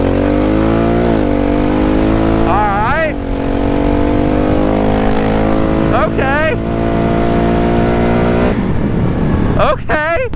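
Honda motorcycle with an aftermarket exhaust and tuner during an acceleration pull, loud and close, the engine note climbing through several gears with quick upshift dips and crackles between them, continuous throughout.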